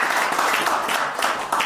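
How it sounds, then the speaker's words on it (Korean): Audience applause fills a hall after a speaker's presentation on the environment and corporate social responsibility, steady and fairly loud throughout, with someone speaking over it. "큰 박수 부탁드리겠습니다"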